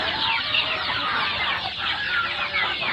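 Free-ranging chickens and large roosters on a farm cluck and call continuously, several birds at once, close and fairly loud, with no talk over them.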